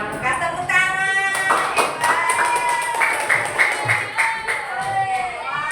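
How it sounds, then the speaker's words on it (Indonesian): A class of children at an elementary school claps together in a classroom, the claps mixed with lively young voices calling out over them. "Tepuk tangan."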